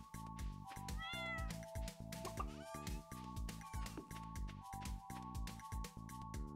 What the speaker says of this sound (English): I want to pet my kitty.